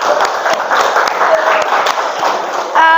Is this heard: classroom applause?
yes